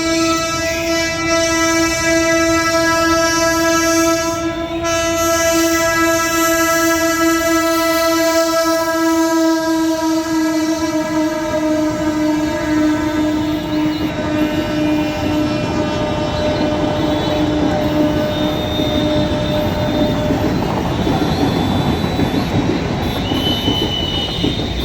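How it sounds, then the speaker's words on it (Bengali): A through train passing a rail gate, loud and close, starting with a long sustained horn blast that fades into a continuous rumble and clatter of wagons rolling by. "এই যে থ্রু ট্রেনটা পাস করছে দেখো"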